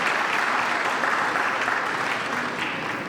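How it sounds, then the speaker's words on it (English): An outdoor crowd at a Boston 250 launch event gives a round of applause for local artists, dense steady clapping close by that fades slightly at the end. "So can I get a round of applause for them?"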